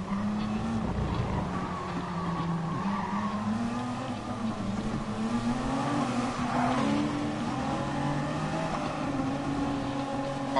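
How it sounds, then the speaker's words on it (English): Race cars in a racing video game accelerate downhill, engines droning and rising in pitch with tire squeal woven through a continuous, loud, steady roar. "Cars accelerating because they're going downhill in the way"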